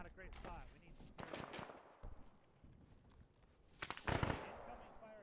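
Gunfire in the military video game Arma 3 during an operation, with bursts of sharp cracks at close to middle distance, the heaviest cluster near the end, under continuous radio-style voices.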